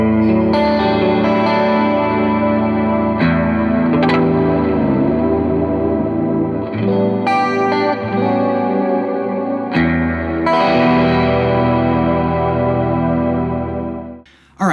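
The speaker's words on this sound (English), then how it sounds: "Let's do some chorus here." Electric guitar through a chorus pedal on a pedalboard, sustained chords shimmering with swirling modulation and echo, loud and continuous with a few re-strummed chords before a sudden stop at the end.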